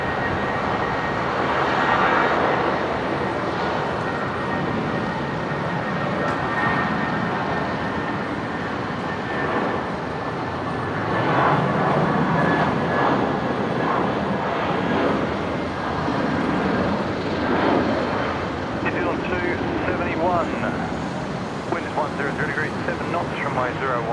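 A Jetstar airliner departing Brisbane for Sydney produces a loud, sustained engine roar that rises and falls in broad waves, with people talking over it.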